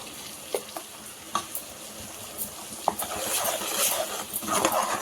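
A paste of onion, tomato and green chili fries in hot oil with cumin, giving a soft steady sizzle broken by a few sharp spoon scrapes and taps, close by.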